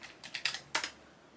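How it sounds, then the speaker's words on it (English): A burst of quick keystrokes on a computer keyboard, about six or seven close clicks in a rapid uneven rhythm, then quiet room tone with no talking. "Let's type in CPI."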